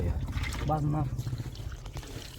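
Very hot water pours steadily onto a racing bullock for a hot-water fomentation, in a close, continuous splashing stream, with a voice briefly heard over it.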